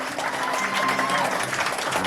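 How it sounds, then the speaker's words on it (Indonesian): Applause from the gathered members at a credit union annual meeting in Loksado, a dense, steady wash of clapping at moderate volume with a faint tone and some murmuring voices underneath. "Oke, tepuk tangan."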